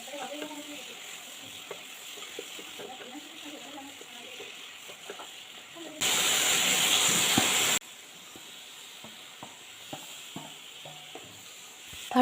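Large-cut tomato pieces tossed into a hot pan over turmeric, giving a steady low hiss that jumps into a loud, bright sizzle for a couple of seconds before settling back to a quieter fry.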